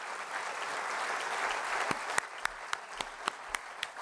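An audience at a convocation ceremony applauds an award recipient, a soft steady wash of clapping with a few louder, sharper individual claps standing out near the end.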